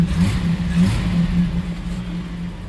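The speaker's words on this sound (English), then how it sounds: "It does have a minor exhaust leak." A 1962 Ford Falcon Ranchero engine runs steadily close by, a low droning hum with slight rises in pitch suggesting light revving, its tone roughened by a minor exhaust leak; no voices over it.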